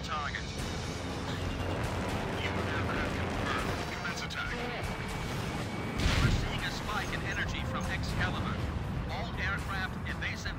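Missile launches and explosions in the jet combat video game Ace Combat Infinity, a continuous roar of gunfire and blasts with a louder burst near the middle, under speech.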